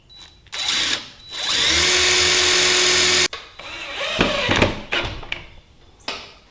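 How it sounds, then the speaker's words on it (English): A power drill pre-drills a screw hole in an oak chair, whirring loudly and steadily for a couple of seconds, then stops, followed by clattering handling noises and a brief final burst. "but I'm going to pre-drill mine."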